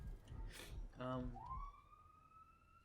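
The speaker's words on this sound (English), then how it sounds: "Sorry if y'all can hear that siren in the background." A faint siren rises and holds a steady wail in the distance after a brief bit of nearby speech.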